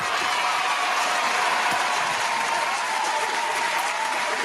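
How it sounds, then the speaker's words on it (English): Dense, sustained applause from a studio crowd at a mixshow episode taping, a loud even wash of clapping with no pauses. "Round of applause for it"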